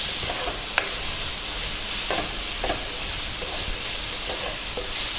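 Onions sauté in a pan as part of an eral thenga pal kulambu, giving a steady soft sizzle with a few faint scrapes of stirring, close by and without talking.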